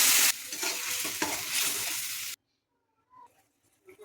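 Loud sizzling and stirring of fried spice paste with salt and turmeric for a rohu fish curry, a harsh burst at first settling into bubbling hiss, then cutting to near silence with faint clinks.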